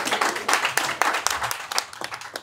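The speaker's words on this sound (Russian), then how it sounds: "И сразу аплодируем девочке замечательной, смешной Аселя." Audience applause at a live comedy show, a dense, steady burst of clapping hands filling the room for a couple of seconds with no voices over it.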